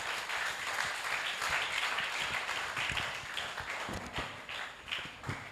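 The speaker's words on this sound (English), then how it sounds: "Please, can we give a round of applause to him?" An audience at a secondary school workshop applauds steadily, a dense, even wash of clapping from many hands that carries on for several seconds without pause.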